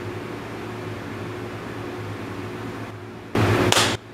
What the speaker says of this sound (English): I didn't shut the fan off, and that screws up my audio